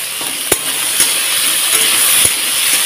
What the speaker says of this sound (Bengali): কারণ ঝিঙাটা খুব সহজে মিটিয়ে যায় বলে এটাকে একটু পটলের সঙ্গে ভেজে নিচ্ছি।